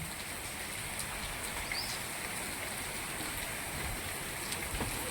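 Soft, continuous monsoon rainfall makes a steady hiss, with faint scattered drips and nothing else standing out.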